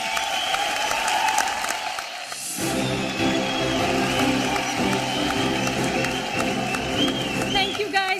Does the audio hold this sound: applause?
yes